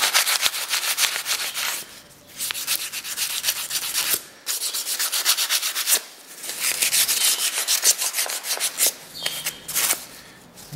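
Wood sanded by hand with 180-grit sandpaper to remove pits: brisk, rhythmic back-and-forth rasping strokes in bursts with short pauses, close and clear, with no voices.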